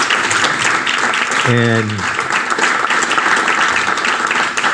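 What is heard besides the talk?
audience applause for panelists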